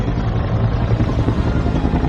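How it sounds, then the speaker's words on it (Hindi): Cartoon helicopter flying, a steady loud rotor drone with low thudding pulses that runs continuously through the whole stretch without a break. "वो जिसके साथ हेलीकॉप्टर में जा रहे हैं"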